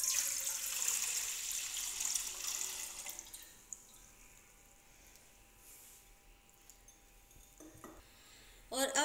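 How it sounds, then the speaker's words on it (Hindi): Two cups of milk poured from a cup into a cooking pot on a stove, a soft continuous liquid wash and trickle that is loudest at first and thins out, ending in a few closer clinks and splashes. "उसमें डालने लगी हूँ मैं दो प्याली दूध"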